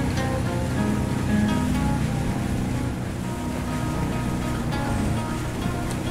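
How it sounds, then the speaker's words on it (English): Ocean waves wash against rocky shore at night in the video game Arma 3, a steady loud roar of surf with a low rumbling undertone and no pauses. "Man, look at the waves, this is awesome."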